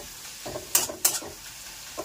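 Potatoes fry in a pan while being stirred, a low sizzle broken by a few sharp scraping stirs of the utensil against the pan, close and distinct, with no talking.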